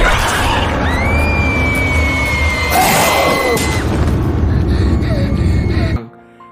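A woman lets out a long, loud, high scream over a busy, noisy background, followed by further agitated cries before the sound cuts off abruptly near the end.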